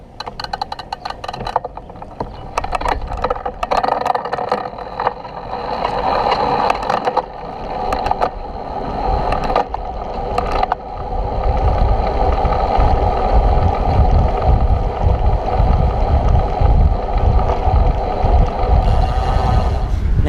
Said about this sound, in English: You're going to get the frame sound of the motor and everything.